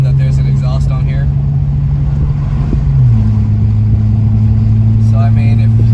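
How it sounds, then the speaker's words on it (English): A Mercedes-Benz C43 AMG Track Edition, running without mufflers, drones loudly and steadily while driving, its exhaust tone dropping slightly in pitch partway through as someone talks over it. "as you can hear, the exhaust sounds really good"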